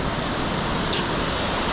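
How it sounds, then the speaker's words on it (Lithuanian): Clear mountain water near Zakopane rushes in a steady, dense, close wash of noise with no breaks and no talking. "Skaidrus, melsvas,"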